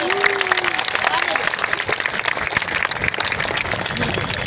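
A large audience at a gathering in Bokaro claps loudly for themselves, a dense continuous roar of hands under voices and crowd noise, sustained at full strength throughout.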